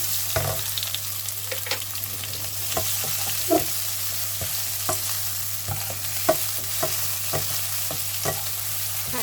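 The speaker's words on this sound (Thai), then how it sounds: "ตั้งกระทะนะคะใส่น้ำมันลงไป เราจะพริกกระเทียมแล้วก็ใบมะกรูดนะคะ ลงไปผัดให้หอม" Oil sizzles steadily in a wok as chili, garlic and kaffir lime leaves stir-fry, while a utensil scrapes and taps against the wok every second or so, no talking.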